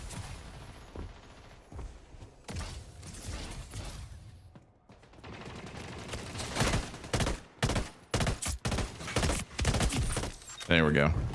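Rapid gunfire in Splitgate 2 under ongoing talk, with fast repeated shots that grow louder and denser toward the end of the fight.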